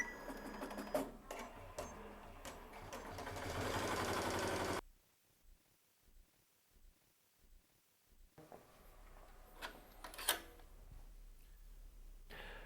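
Embroidery machine running a locator stitch for a 3D puff patch: steady mechanical stitching chatter for about five seconds, then quiet, soft ticking pulses and scattered clicks nearby.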